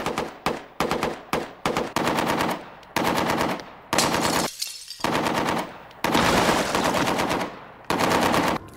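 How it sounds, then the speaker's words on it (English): Chinese-model AK-47 assault rifle firing in repeated loud bursts, some short and some sustained, separated by brief pauses, with no talking. "the AK-47 is the most popular assault rifle in the world. This is the Chinese model."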